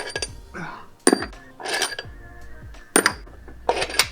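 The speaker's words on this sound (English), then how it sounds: "Gotta take out all these bolts." Metallic clinks and clanks of bolts being removed from a Ford Mustang 3.7 V6 engine with the valve cover off, coming in several sharp bursts with short pauses between them.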